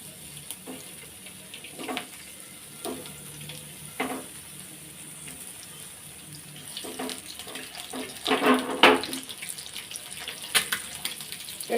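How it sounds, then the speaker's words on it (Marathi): Sliced boiled eggs fry in oil in a pan for a dhaba-style tawa egg masala, giving a steady soft sizzle with wet crackling bursts that grow louder toward the end. "ही अंडी आपली कापलेली आहेत ना, त्याला अशी फ्राय करून घ्यायची तेलामध्ये"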